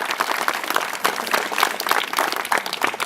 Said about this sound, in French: On peut le féliciter, l'applaudir